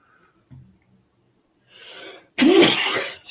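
A single sharp sneeze bursts out close and loud after a faint breathy intake, cutting through a quiet room during a live day-trading session.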